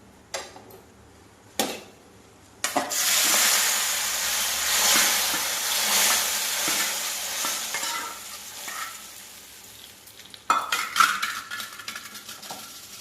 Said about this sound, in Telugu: తాలింపు పోసేద్దాము